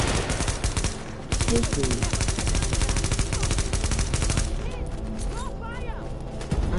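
Rapid automatic gunfire rattles nonstop in The Division, close and loud, in dense bursts that thin out near the end, while a voice talks over the shooting.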